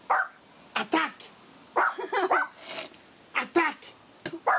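A guard dog barks in short, sharp bursts on an attack command, several loud, close barks spaced irregularly, with a person's voice mixed in.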